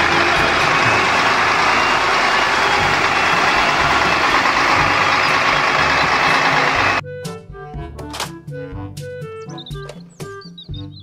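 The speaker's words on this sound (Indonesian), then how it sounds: "Mobil truk molen." A toy cement mixer truck gives a loud, steady rumbling engine drone for about seven seconds, then switches to a run of sharp electronic beeps and clicks.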